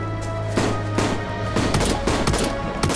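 Shotgun fire in DayZ comes as a rapid series of loud, close blasts over a dense background of game noise, with several shots packed into a few seconds.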